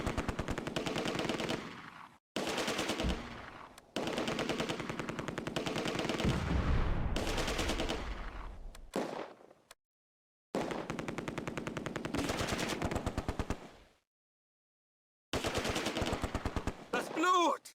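Heavy gunfire in the WWII strategy game Close Combat, with Vickers and MG42 machine guns in rapid, loud automatic bursts that break off into brief silences and then resume across the whole stretch.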